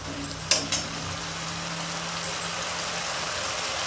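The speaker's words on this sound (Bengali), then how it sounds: "30 সেকেন্ড পর আবার নাড়লাম।" Chicken curry masala sizzles steadily in a hot pan while being stirred, with a couple of light utensil clinks early on over a constant close frying hiss.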